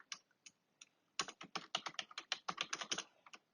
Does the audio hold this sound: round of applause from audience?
no